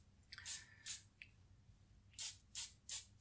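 Short spray bursts mist onto a sugar flower leaf made with a leaf veiner, about six quiet puffs in two clusters, the first one slightly longer, with no one talking.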